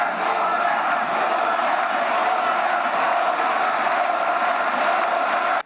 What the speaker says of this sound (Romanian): Ludovic Orban, a fost primit cu urale.